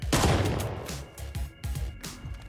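Gunfire in the video game Hitman Freelancer: a loud, close burst of several rapid shots with echoing tails, then more separate shots.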